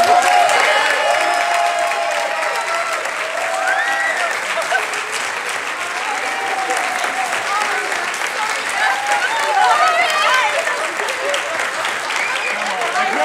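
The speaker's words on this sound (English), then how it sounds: "Please, a wonderful round of applause for the literature group." An audience claps for a literature workshop group at the ISWI 2019 closing ceremony. The applause is dense and sustained, with scattered cheers, and a voice speaks over it.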